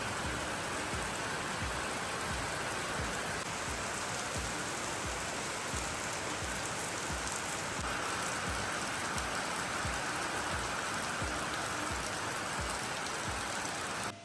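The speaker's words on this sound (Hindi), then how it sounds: "अब तो और भी ज़्यादा तेज़ बारिश शुरू हो गई है।" Heavy rain pours steadily and loudly in a Himachal mountain village, a dense continuous hiss of drops drumming on surfaces with no pauses.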